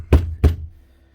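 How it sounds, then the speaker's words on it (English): A part of a 27-year-old Bosch GWS 6-116 angle grinder is banged against a table twice, giving two loud, close, hollow thuds about a third of a second apart that fade into quiet. "as I start to bang it off the table"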